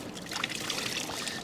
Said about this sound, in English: Dip it in some water.